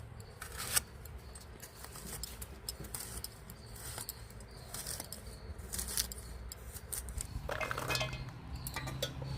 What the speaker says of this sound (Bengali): এবার কচুগুলো ছোট ছোট করে কেটে নেব একদম ছোট ছোট করে কাটবো